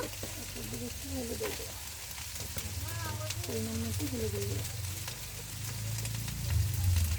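Turmeric and chili powder stirred into frying ginger-garlic paste in a pan, a steady sizzle with scraping strokes running throughout while someone talks over it.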